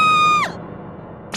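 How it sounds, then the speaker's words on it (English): A woman's sharp, high-pitched scream of fright in a sauna, one sustained shriek that breaks off abruptly, loud and close, followed by near silence. "Why are you screaming?"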